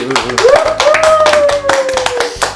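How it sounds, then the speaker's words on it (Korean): A few people clap in a short, distinct burst of hand claps, close and crisp, while a sustained tone and a voice carry on beneath. "박수!"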